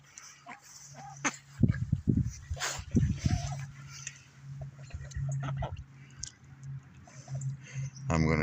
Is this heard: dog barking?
yes